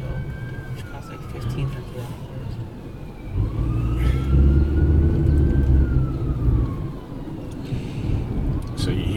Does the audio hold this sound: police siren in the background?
yes